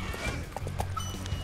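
Horse hooves clip-clopping in Samurai Warriors 5, a short run of steady hoof beats with a whinny over low battle rumble.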